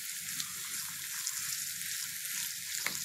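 Meat sizzles and fries in a pan while being stirred, a steady close crackling hiss with soft scraping movements running throughout and no talking.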